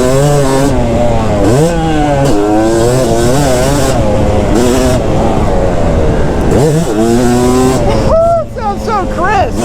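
Yamaha YZ250 two-stroke dirt bike engine screaming loud and close, pitch sweeping up and down through repeated throttle blips and shifts, with a sharp rising rev near the end.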